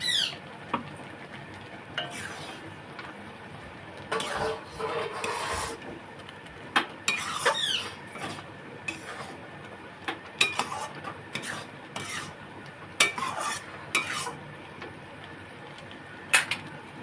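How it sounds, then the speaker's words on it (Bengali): Spices stirred into sugar syrup for a sweet star fruit pickle: a spoon scrapes and clinks against the pan in short, irregular bursts, close and fairly quiet. "এতেই মশলাটা আমি দিয়ে দেবো যাতে এর সাথে ভালো মতো মিক্সটা হয়"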